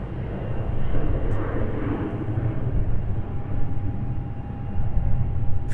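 Airplanes at Raleigh Durham International Airport, a loud continuous jet engine roar with a low rumbling body and a faint steady whine, no talk.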